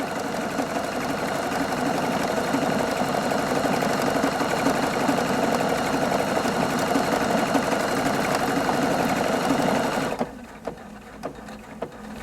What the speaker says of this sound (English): once you do your combination, you just have to hit the start button, to start the machine sewing